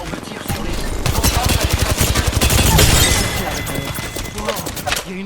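Rapid automatic gunfire from the Apex Legends video game rattles in dense bursts with explosive impacts, loud and sustained, while a player's voice talks underneath.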